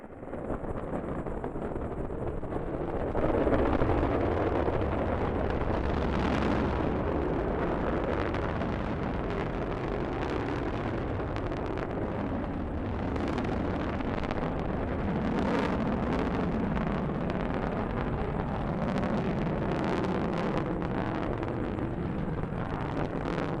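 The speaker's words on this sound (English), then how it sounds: "Liftoff of the Delta rocket carrying GLAST, a gamma ray telescope searching for unseen physics in the stars of the galaxies." Delta rocket carrying the GLAST gamma ray telescope lifting off, a sustained deep crackling roar that stays loud and steady for the whole stretch, heard from a distance without talk.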